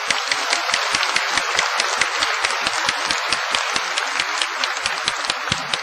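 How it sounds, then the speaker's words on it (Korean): An audience after a speech breaks into rapid, dense applause, many hands clapping in a steady, continuous patter that stays even in loudness from start to finish. "박수에 박수"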